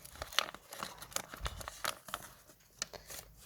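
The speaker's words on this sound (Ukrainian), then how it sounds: "Відкриваємо наш дивопакетик" Crisp crinkling and rustling of thin plastic packaging, close up, in short irregular bursts with brief quiet gaps.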